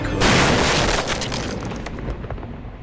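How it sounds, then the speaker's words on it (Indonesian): A pistol fires in a Sherlock television drama, a loud, close, booming blast that rolls into a long decaying tail of reverberation with no voices. "Jadi Watson menggunakan pistolnya untuk menembak pelaku."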